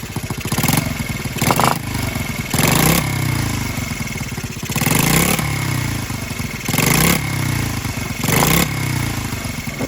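A Honda Z50R minibike engine idles with a cylinder head leak, puffing in repeated rhythmic bursts of exhaust-like hiss about once a second over a steady close running drone.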